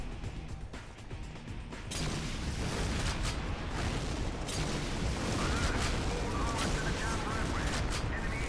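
A grenade blast in the 2004 Xbox game GoldenEye: Rogue Agent erupts into a loud, sustained roar of explosion and gunfire that swells after a moment and rumbles on without a break.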